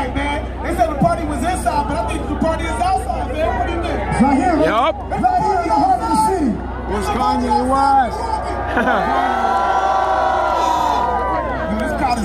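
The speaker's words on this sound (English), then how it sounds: "Wisconsin, this crowd is live, man." A packed, lively crowd at a Milwaukee Deer District watch party for NBA Finals Game 6 cheers and whoops continuously, with loud shouting voices and chatter layered on top throughout.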